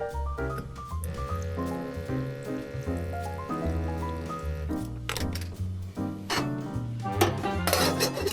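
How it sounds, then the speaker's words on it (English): Broccoli tossed into a pan holding a little water, cooked off a truck tailgate at a fall campsite: close clattering of the pan and watery splashing over a steady background tone, with no talking. "we'll throw the broccoli in the pan"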